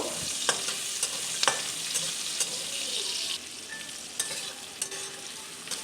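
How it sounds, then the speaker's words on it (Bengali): Chopped onions fry in a pan over a constant soft sizzle while a spoon stirs them, scraping and tapping against the metal every second or so, up close with no voices. "দিয়ে দিচ্ছি কুচনো পেঁয়াজ পেঁয়াজটা আমি লাল করে ভেজে নেব"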